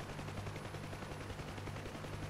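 An UH-1H Huey helicopter's minigun fires in DCS World, a faint, steady buzzing roar of rapid continuous fire blended with rotor hum, with no talking.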